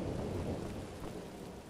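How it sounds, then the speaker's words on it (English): Steady rainfall with a low rolling rumble of thunder in Wolfenstein: The New Order, a dense continuous wash that stays loud and even throughout, with no voices. "Why is it raining all of a sudden?"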